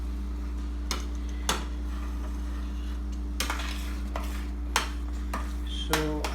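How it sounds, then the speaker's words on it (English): Utensil scraping and clinking against a pan while pav bhaji is stirred, in several sharp intermittent strokes over a steady low hum, with no talking. "So I need to stay with the pan all the time and keep on stirring it"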